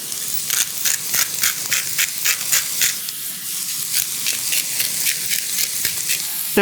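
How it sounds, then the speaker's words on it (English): Vegetables and herbs for ratatouille sizzle and crackle in hot oil in a pan, with repeated rhythmic bursts from stirring, close and fairly loud. "Now we're going to let this saute"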